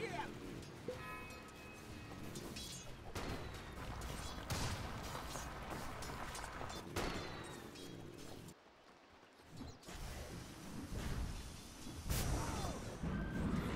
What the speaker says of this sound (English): He's going to eat a homing missile and plenty of barrages of rockets.